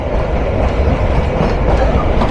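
The Teesta Express, running from Dhaka to Dewanganj, rolls along the rails with a loud, continuous rumble and rhythmic clickety-clack heard close from aboard the train.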